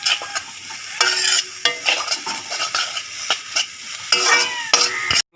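Onions are sautéed in a pan for a pork roast: a spoon stirs and scrapes in repeated bursts over a soft sizzle, with clinks against the pan. The sound is close and moderately loud, and no one speaks.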